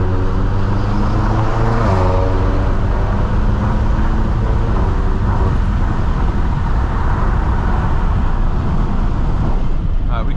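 Stage 2 BMW M6 driving at high RPM at night, a loud sustained engine roar with a brief shift-like change early on, steady road and wind noise throughout.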